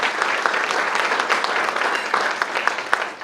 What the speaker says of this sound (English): Let's have a round of applause for Sharon Guthrie and the Thorny Leaf staff for this wonderful meal.